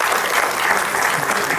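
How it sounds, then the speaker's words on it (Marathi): Dense, steady applause from an audience welcoming award winners at a national short film festival prize ceremony, filling the whole moment without a break. "एकदा टाळ्या वाजून आपण या ठिकाणी स्वागत"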